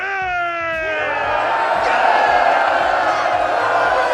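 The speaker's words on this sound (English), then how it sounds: "Mark Addy, who played Roland, started cheering to get the extras to join in." In a movie scene, one man lets out a drawn-out, rising shout, and a large crowd of extras joins in with loud, sustained cheering and whooping that swells into a steady roar.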